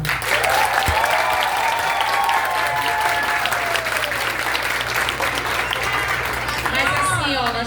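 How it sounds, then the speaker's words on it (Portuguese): Audience applause for teacher Lucila, a steady wash of clapping sustained throughout, with a few voices calling out near the end. "Aplausos para a Lucila."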